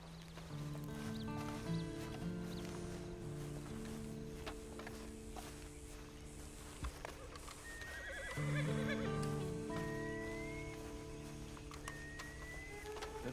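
A horse in the video game Red Dead Redemption 2 whinnies and snorts over a steady ambient bed, with light clip-clop hooves and a second, louder whinny near the end.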